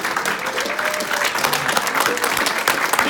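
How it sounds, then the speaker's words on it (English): An audience applauds at an event, a loud, continuous wash of many hands clapping close by, dense and unbroken for the whole stretch, with faint voices mixed in. "Stand up and give Kim Murphy a hand of applause for being our master of ceremony."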